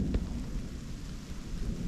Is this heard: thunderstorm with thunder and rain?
yes